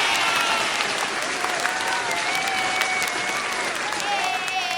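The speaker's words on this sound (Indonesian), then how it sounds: "Wow, beri tepuk tangan sekali lagi." Audience applause at a musical talent show, a dense continuous roar of clapping that holds level throughout, with faint whistling or voices riding on top.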